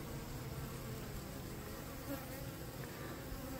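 Honey bees buzz continuously around an opened backyard hive, a dense, even drone close by with no talking.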